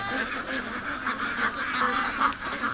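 Ducks being raised for charity quack and honk in a loose group near a lake, a busy overlapping chatter of calls at moderate distance with no talk over it.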